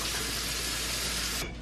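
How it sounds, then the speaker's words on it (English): Water poured from a mason jar into a cooking pot, a short, close, steady splashing stream that cuts off abruptly at the end. "So I'm just putting a mason jar of water in here."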